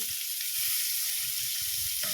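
Sliced onion sizzles steadily in hot oil in a pan while a chicken curry with vegetables is being cooked, a continuous bright hiss with soft stirring bumps underneath.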